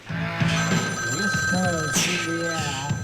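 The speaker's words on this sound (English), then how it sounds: "the phone is ringing" An old telephone bell rings continuously in the 1987 horror film Zombie Nightmare, a steady metallic trill sustained throughout while voices talk over it.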